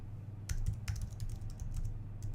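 Quiet typing on a computer keyboard: a short, irregular run of soft key clicks over a low, steady background hum.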